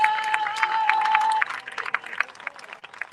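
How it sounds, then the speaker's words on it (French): A crowd at a political gathering in Gabon claps hands, a quick run of scattered claps under a held note and background voices, fairly faint and brief. "Tapez les mains pour moi."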